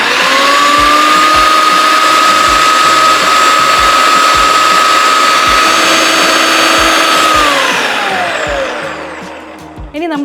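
A V-Guard Massivo food processor chops cabbage with a loud, close, steady whirring motor hum that holds for several seconds before winding down and fading to a stop.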